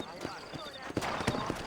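Horse hooves clip-clop in a Red Dead Redemption Undead Nightmare game scene, irregular muffled thuds beneath a voice talking.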